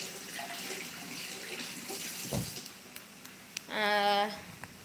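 Running tap water from a faucet while hands are washed after handling onions, a steady wash of noise with a brief squeaky tonal whine near the end.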